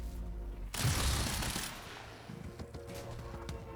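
Gunfire in the video game Quantum Break, a sudden loud burst of rapid shots followed by fading rattling fire and game ambience.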